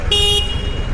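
A short single beep from the horn of a Scrambler motorcycle, pressed by accident, loud and close for a fraction of a second over engine rumble.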